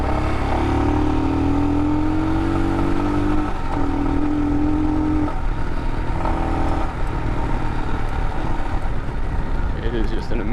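A 2022 Royal Enfield Himalayan motorcycle ridden off-road makes a steady engine drone with rising pitch that stays close and loud beneath someone talking over it.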